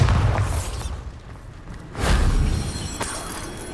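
A Bombarda spell goes off in Hogwarts Legacy as a deep booming blast with a crackling tail, followed by a second heavy burst about two seconds later, loud and close with no talk.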